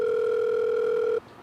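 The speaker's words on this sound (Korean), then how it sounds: "바로 전화를 걸어봤죠." A telephone ringing tone heard while calling a motel: one steady, pure electronic tone held loud for about a second before cutting off abruptly into quiet.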